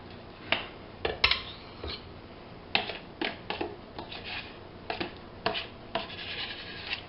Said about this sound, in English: we scrape the butter so that we get all of it, so we're not wasting